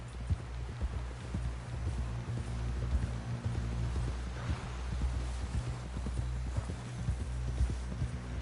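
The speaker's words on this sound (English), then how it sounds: "Someone help John down off this horse." Horse hooves clip-clopping in Red Dead Redemption 2, a steady rhythmic trot of distinct hoof falls under a low engine-like drone, no talk in the moment.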